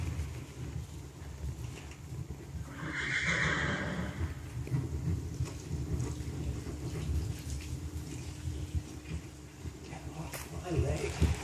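A horse moves at a trot under a rider, hooves faintly clip-clopping in the background while a person talks throughout.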